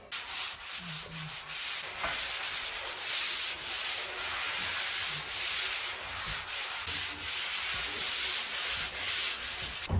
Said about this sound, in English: how to sand your drywall properly